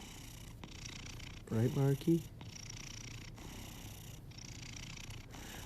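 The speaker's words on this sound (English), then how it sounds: "And he is such a loud purrer." An orange tabby cat purrs steadily and softly close by for several seconds, with a short burst of talking partway through.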